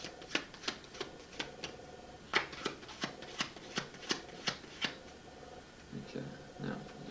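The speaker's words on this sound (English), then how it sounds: "I'm going to shuffle the cards. Just mix them up a little bit here." A deck of playing cards is shuffled by hand at close range, giving a series of crisp riffling snaps in an irregular rhythm, followed by softer rustles as the cards settle.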